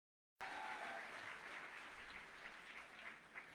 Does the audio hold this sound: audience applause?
yes